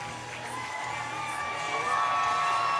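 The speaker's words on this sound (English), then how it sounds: "Big crowd pop for Leesh Pike." Big arena crowd cheering and whooping for 34-year-old super bantamweight boxer Leesh Pike at a fight event, a dense, steady roar that swells louder toward the end with no talk over it.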